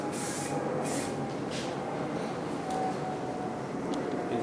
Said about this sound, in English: we apply the paint in light dust coats to the damaged area.